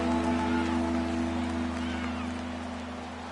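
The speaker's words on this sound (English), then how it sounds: "Footing obviously an issue in the driving rain." Driving rain in a football video game, a steady broadband hiss of downpour over a low constant hum, fading slightly toward the end with no voices.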